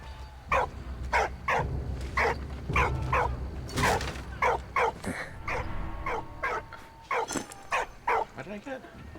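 A dog in the World War I video game Valiant Hearts – The Great War gives a steady run of short, sharp barks and a few whimpers, close and fairly loud, over a low background.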